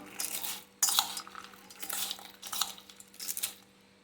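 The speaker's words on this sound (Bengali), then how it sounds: "এবার খুব ভালো করে আমি এটাকে মিশিয়ে নেবো" Spoon scraping and clinking against a dish while chatpata street-style food is mixed, in several short bursts of close, bright metallic scrapes separated by brief pauses.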